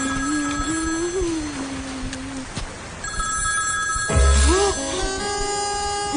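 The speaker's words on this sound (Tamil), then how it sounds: "இரு, நான் ஃபோன் பண்றேன்." A telephone rings in a Tamil film scene: a bright electronic ring bursts in midway over a background of music and room ambience.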